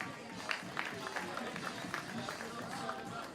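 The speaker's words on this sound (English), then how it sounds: "So give them a big round of applause." An audience at a Green Bay police K9 event applauds with a steady, moderate wash of clapping that carries through the whole stretch.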